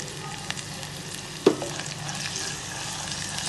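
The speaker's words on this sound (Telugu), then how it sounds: "ఇది కొద్దిగా బ్రౌన్ అయ్యేంత వరకు వేయించుకోవాలి." Dried red chillies and crushed garlic frying in oil, a faint, steady sizzle with one brief clink near the middle.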